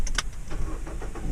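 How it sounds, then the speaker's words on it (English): A car engine cranks and catches in a short, loud burst close by, with no talk over it. "Engine on."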